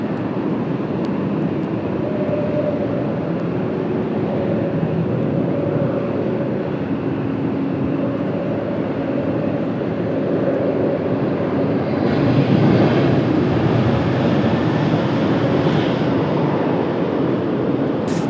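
A Lufthansa Airbus A340-600 at Washington Dulles on a cloudy day gives off a constant jet roar that swells louder toward the end.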